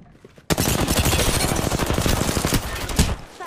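Sustained automatic gunfire in the shooter game Apex Legends, a loud, dense burst of rapid shots lasting about three seconds with a few heavier reports near the end.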